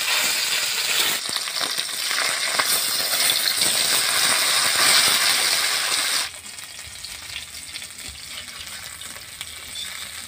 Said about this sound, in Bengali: তেলটা গরম হয়ে গেছে, মাছগুলো ভেজে নেব এবার।